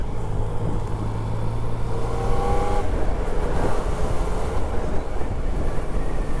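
A Yamaha Tracer 900 motorcycle on an urban ride gives a continuous low engine drone with steady wind rush. Brief rising whines come through mid-ride, and there is no talking.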